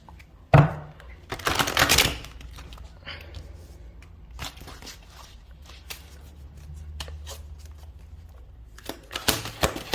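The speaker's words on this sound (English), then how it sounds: "One more shuffle." Quick papery riffles and soft card slaps, a few bursts of shuffling tarot cards with quiet gaps between, close and fairly soft.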